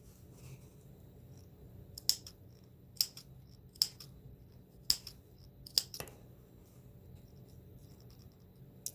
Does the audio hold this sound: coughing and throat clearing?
no